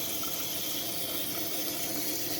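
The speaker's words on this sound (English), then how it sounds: "So now I'm gonna give it a good wash." Tap water runs in a steady, unbroken rush while a potted plant is washed, close and moderately loud, with no voices.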